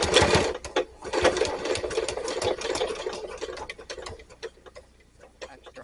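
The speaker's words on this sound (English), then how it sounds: "I'm using the Elna 720 Pro with an" An Elna 720 Pro sewing machine fitted with an AccuFeed narrow foot stitches through a machine-embroidered key fob, making a steady, fast, close mechanical whirring and ticking that slows and fades toward the end.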